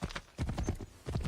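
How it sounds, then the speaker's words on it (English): Horse hooves clip-clop in Assassin's Creed 3, with two quick bursts of hoofbeats separated by a brief lull, close and moderately loud. "Our horse is right here."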